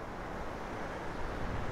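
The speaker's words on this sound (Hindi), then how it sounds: "ये बोल्डर्स के अंदर से झरना बह रहा है" A mountain stream on the Satopanth trek in the Himalayas flows out from under boulders, giving a steady, even rush of water with no voices.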